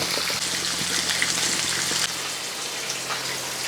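Anchovies frying in oil give a steady, close crackling sizzle like light rain, with small pops scattered through it and a slight drop in level partway.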